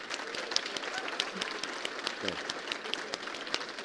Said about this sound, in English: Let's give Paul Willis a round of applause